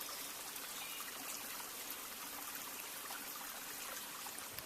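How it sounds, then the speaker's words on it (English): A small creek at a trail crossing bubbles and trickles steadily, its even, close rushing water sound holding alone without any talk. "You hear the nice bubbling brook."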